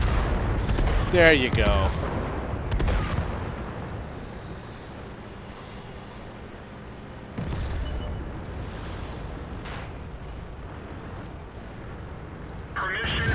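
Artillery strike explosions in World of Tanks rumble as loud booms near the start and again around the middle, with a voice speaking briefly over the game noise.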